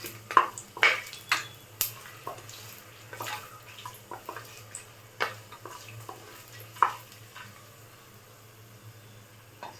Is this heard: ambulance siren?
no